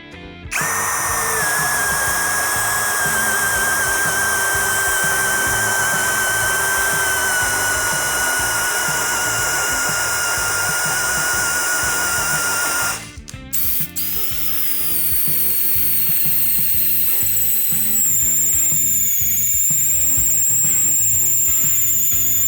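A Procraft Industrial CD20B cordless drill whines loudly and steadily in first speed, turbo mode, as a 22 mm bit bores through material, the pitch shifting midway as the cut changes, continuous throughout.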